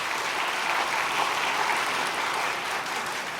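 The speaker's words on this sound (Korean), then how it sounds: "예, 박수 한번 보내주십시오." Audience at a religious training session breaks into applause: an even, sustained wash of many hands clapping together, moderately loud and unbroken, with no one speaking over it.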